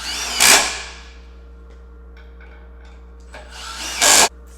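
A power drill drives 3-inch deck screws, with two loud, brief whirring bursts near the start and end separated by a quiet stretch with faint handling noises.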